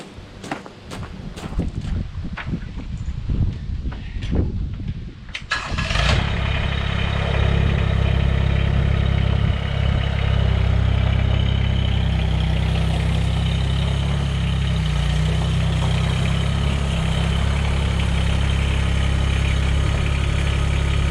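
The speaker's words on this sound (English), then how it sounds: "what I'm going to do is back up the tractor" A Mahindra eMax 20S HST compact tractor backs up with its engine running. The clip opens on a few knocks and clunks, then a loud, steady, low diesel drone holds close by without a break to the end.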